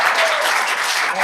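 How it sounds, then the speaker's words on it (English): A brief, loud burst of audience applause fills a Redondo Beach city council meeting room, with thick, even clapping throughout. "Let's not applaud"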